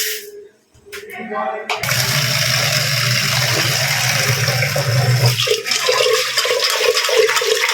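Running water splashes steadily over goose meat as it is washed, a continuous close gush that starts after a brief pause, with faint voices now and then.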